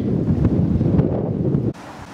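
Loud, blustery wind buffeting the microphone with a steady low roar that drops off abruptly near the end, outdoors at an overlook in Serbia.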